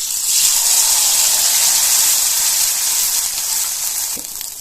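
Rice batter hits hot oil on an iron griddle with a loud, steady sizzle that hisses continuously and close for several seconds, with no talking.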